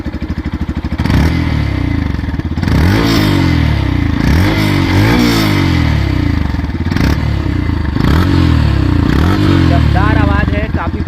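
A Yamaha FZ-X motorcycle engine idles with a deep, bassy thump, then revs up in several repeated throttle bursts close to the microphone.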